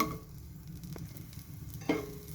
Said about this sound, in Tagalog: saute natin ng onion